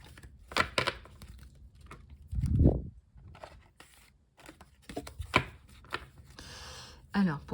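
Tarot cards being shuffled and pulled out of a deck, giving scattered short papery riffles and slaps at close range, with one louder thump partway through and a faint voice now and then.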